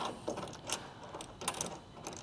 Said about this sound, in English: And tighten the bolt